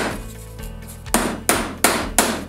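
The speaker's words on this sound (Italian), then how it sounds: "Andiamo a prendere 6 chiodi e li andiamo a mettere sotto alla mensola" Four sharp, evenly spaced hammer blows drive nails into the underside of a wooden wall shelf for a bottle rack, each strike loud and close, following a quiet start with a low background hum.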